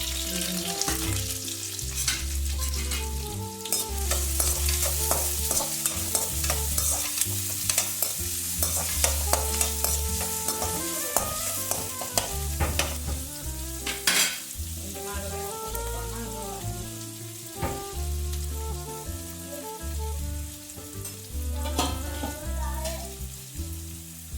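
Chopped onions and carrots sautéing in a pot for mutton biryani, a continuous close sizzle and frying hiss, with music playing over it throughout.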